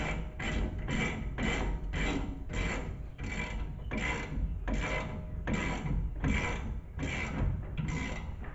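A ratchet tightening brake bolts on a 2020 Ford F150, about a dozen rhythmic rasping strokes with short pauses between them, close and steady.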